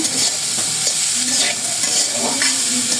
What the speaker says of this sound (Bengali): সবজিটা ভেজে নিচ্ছি